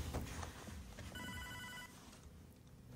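A phone rings once in Hotline Miami 2, a short bright electronic trill in the middle of low droning game music, fairly quiet.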